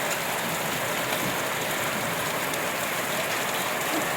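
Heavy unseasonal rain mixed with small hailstones pours down on farmland, a dense continuous hiss and patter that stays loud and even throughout with no voices.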